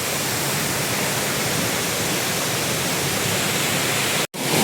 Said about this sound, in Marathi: तुम्ही पाहू शकता चंद्रनगरचा धबधबा